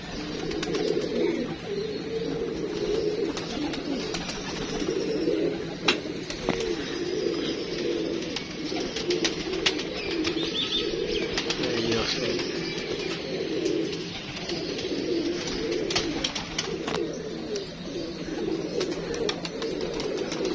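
Pigeons coo steadily in a continuous low murmur over a long stretch, with scattered sharp clicks and small flutters mixed in. The sound is fairly close and no one speaks.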